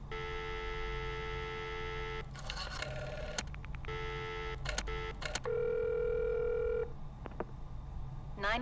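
Telephone tones in a tense emergency-call scene near Crystal Lake, with steady electronic ringing and beeping bursts over a low mains hum, broken by short clicks and a long flat tone midway.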